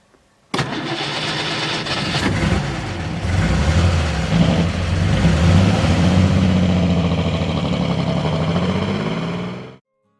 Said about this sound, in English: It has a distinctive, air-cooled thrum, reminiscent of twin VW Beetle engines, thanks to a unique pushrod design and hemispherical combustion chambers.